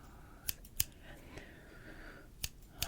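Sharp scissor snips cut hair close up during a soft-spoken ASMR haircut roleplay, a pair of quick snips followed by a pause, then two more crisp cuts against quiet room tone.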